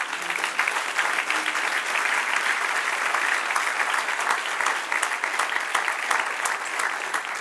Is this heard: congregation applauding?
yes